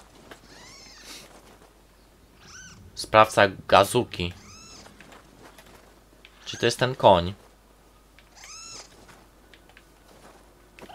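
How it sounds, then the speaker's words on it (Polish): A cat meows repeatedly in the video game Nioh 2, several short high meows spaced across the clip between bursts of game noise, while someone talks over it. "O, mam tego kotka tutaj."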